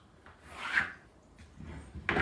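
A pencil draws a line on wood while fitting a kitchen, giving two soft scratchy strokes, close and fairly quiet, with a faint knock at the end.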